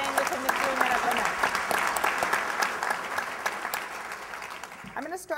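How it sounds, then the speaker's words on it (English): A round of applause breaks out at a panel event on plug-in electric vehicles. The clapping is loud and sustained, and a voice starts talking as it fades at the end. "Let's give a round of applause for staying within the 3 minute limit."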